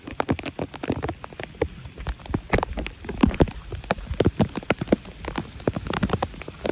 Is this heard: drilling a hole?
no